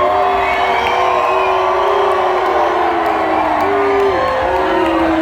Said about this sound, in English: What are you fucking booing for?